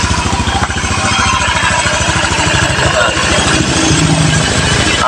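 A freshly rebuilt Honda Beat FI motorcycle engine idles steadily up close with a fast, even pulsing putter and a light mechanical clatter, while someone speaks over it.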